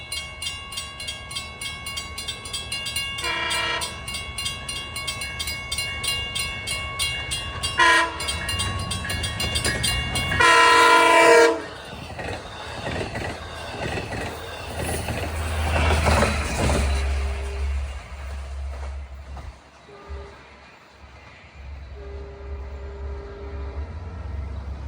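LIRR train 57 approaches on the Montauk Branch east of Babylon with several loud blasts of its horn, then a heavy rumble as it passes close by, with no talking.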